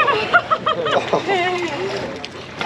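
Someone jumps from a Finnish sauna into cold water with a short splash and sloshing, followed by excited voices and shouting close by.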